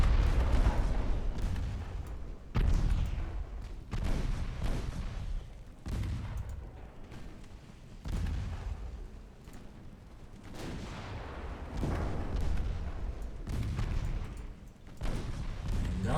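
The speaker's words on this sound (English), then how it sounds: "Let's fire at their enemy lead ship now." Warship artillery fire in the naval strategy game Ultimate Admiral Dreadnoughts: a series of heavy booming gun salvos, roughly every two seconds, each with a rumbling decay, loud and close throughout.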